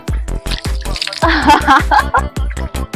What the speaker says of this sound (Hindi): मस्त ठंडा ठंडा पानी बह रहा है